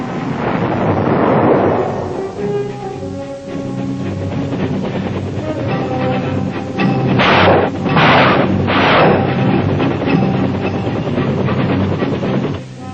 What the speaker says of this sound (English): Air Force strikes, artillery fire, and Army gunships prepared the way.